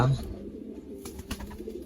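Pigeons coo at close range among a small pigeon pair, with a low, steady murmuring coo running throughout and a brief louder note near the start, plus light rustling and faint background noise.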